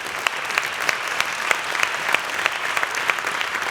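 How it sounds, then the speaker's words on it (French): An audience at a French business awards ceremony claps in a steady ovation, with a few sharp, close individual claps standing out above the dense crowd. "Il faut encore applaudir."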